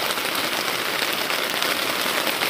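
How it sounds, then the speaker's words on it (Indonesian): Steady rain falls at a campsite in Bogor, a dense, even hiss of drops on surfaces that stays close and continuous throughout, with no talk over it. "Ini hujan-hujan."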